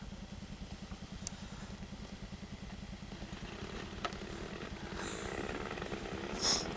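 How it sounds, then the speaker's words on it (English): An old outboard boat motor from 1973 runs with a fast, even, pulsing putter, close and moderately loud, with a few clicks and a brief swell near the end. "That motor's only 73, 22 years old, and the first pull it starts."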